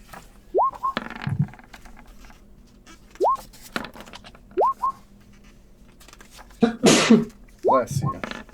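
A sneeze bursts out loudly around the seven-second mark during a tabletop roleplaying session, amid scattered chirpy squeaks and clicks; no other loud sounds surround it.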